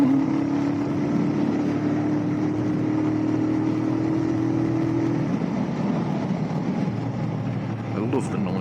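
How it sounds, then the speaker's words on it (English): Motorbike engine ticking over at mid and low revs while riding through traffic, a steady low drone holding throughout with a brief hum that drops away partway, and someone speaking over it. "I love the noise this bike makes."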